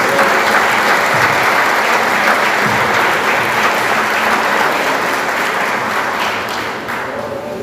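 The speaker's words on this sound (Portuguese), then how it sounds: "Vamos receber os servos do Senhor com as palmas para o Senhor Jesus." A church congregation gives loud, sustained applause for several seconds, a full room of clapping that eases off slightly near the end.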